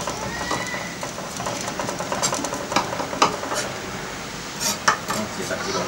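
Garlic is chopped with a knife on a board for homemade chicken nuggets, making a run of close, uneven sharp taps and clacks over a light kitchen background.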